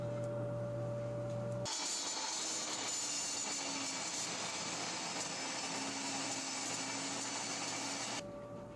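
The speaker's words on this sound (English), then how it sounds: "So we set this into the blade, set your feather board, clamp it down, and now the fence will let me ride the rest in." A table saw rips a maple slat against a fence with a feather board clamped down: a faint motor hum jumps into a loud, steady cutting roar for about six seconds, then drops back to the idle.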